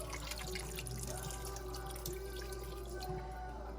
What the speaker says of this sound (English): you're gonna put in water